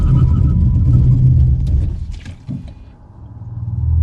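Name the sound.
electric car braking hard from 60 mph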